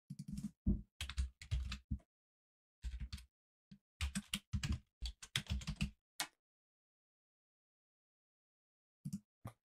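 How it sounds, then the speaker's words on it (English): A computer keyboard clatters in bursts of quick keystrokes, close and crisp, with pauses between runs and a final few taps after a long silence. "Type it in."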